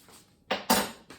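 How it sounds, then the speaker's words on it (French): A spoon is put away in a kitchen, a short close metallic clink and clatter of cutlery, two quick bright knocks followed by a fainter touch. "Moi, je range ma cuillère."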